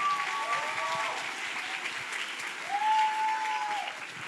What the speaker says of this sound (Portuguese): Salva de palmas para a Miriam aí, gente.